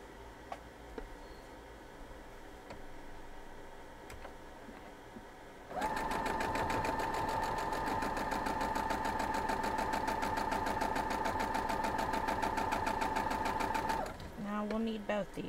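Sewing machine stitching cotton quilt pieces, quiet at first, then a loud, steady, rapid mechanical whirr for about eight seconds before it stops and a voice is heard.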